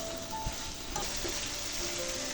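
Chicken pieces sizzle in a pan with spices, tomato slices and garlic cloves for chicken khichuri, a steady faint frying hiss with a few stirring scrapes, no talking.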